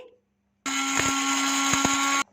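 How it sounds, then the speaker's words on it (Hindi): Electric spice grinder whirring as it grinds white pepper and dried coriander seeds, a loud steady burst of about one and a half seconds that starts and stops abruptly, with a brief rattle of seeds inside. "इसे अच्छी तरह से ग्राइंड कर लेंगे"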